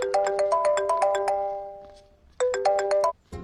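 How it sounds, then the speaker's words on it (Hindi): A mobile phone ringtone plays a bright, repeating electronic melody in two bursts, the first fading out before a short pause and the second starting again loudly, with no voices over it. "भैया, आपको किसी का फोन आ रहा है."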